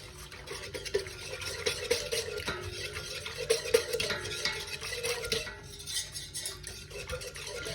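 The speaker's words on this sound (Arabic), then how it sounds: "غادي نحرك الخليط ديالي" A spoon stirs a pizza dough mixture of yeast, warm water and milk in a bowl, giving repeated soft scraping and light clinks against the bowl, close up and fairly quiet, with no talking.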